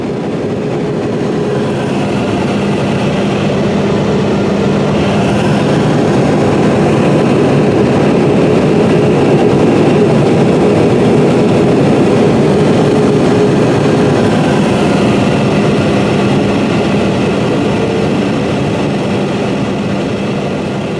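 A John Deere 9670 STS combine fitted with a 42 ft Shelbourne Reynolds XCV42 stripper header harvests flattened wheat, its header slowed. It makes a loud, unbroken roar of engine and threshing machinery that holds steady throughout, with no voices.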